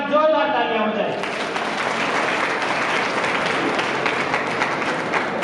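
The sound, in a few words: audience applause for student teachers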